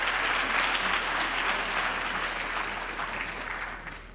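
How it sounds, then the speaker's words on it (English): Sustained audience applause fills a graduation ceremony at a university main campus, a dense steady wash of many hands clapping that holds strong and then tapers slightly toward the end. "Just give them a big round of applause,"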